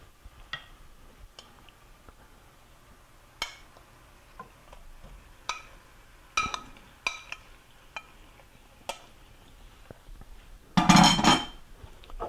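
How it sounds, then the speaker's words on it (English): Shrimp go into a pan of tender garlic: scattered light clinks and taps of utensils against cookware, then a short, loud burst of sizzling near the end as the shrimp hit the hot pan. "So now I'm going to go ahead and add the shrimp."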